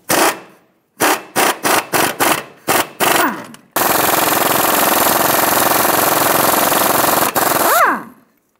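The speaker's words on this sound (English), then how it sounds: "Using a 21 millimeter socket, we're going to remove the nut off of the upper control arm" An impact wrench on a 21 mm socket rattles off the upper control arm nut of a 2007-2017 Ford Expedition, several short loud bursts followed by a long sustained hammering run that winds down at the end.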